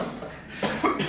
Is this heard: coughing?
yes